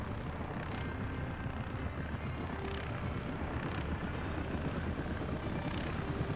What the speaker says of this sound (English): The helicopter is excellent.